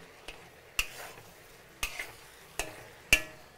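Chow mein noodles and kailan stir-fried in a wok with soy sauce seasoning, several sharp metallic spatula clanks against the wok over a soft sizzle, close and without talk.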